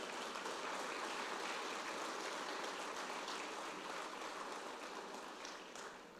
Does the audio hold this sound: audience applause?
yes